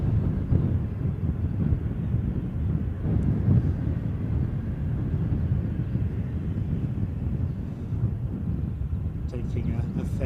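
A British Airways airliner departs on a dry, windy day at Edinburgh, a continuous low engine rumble mixed with buffeting wind noise on the microphone.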